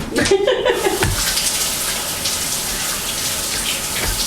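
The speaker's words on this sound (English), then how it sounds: "which I'm gonna wash off my hands" Hands are washed under a running kitchen tap during coquito preparation, a steady hiss and splash of water that carries on throughout, with a brief rush of louder splashing near the start.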